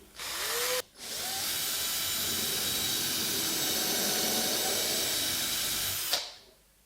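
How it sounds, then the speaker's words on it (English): A power drill boring a 3mm pilot hole for a screw in wood for a wardrobe, with a brief spin-up, then a steady high whirring drone for about five seconds that winds down at the end, close and loud. "it shows me exactly where I need to drill my pilot hole"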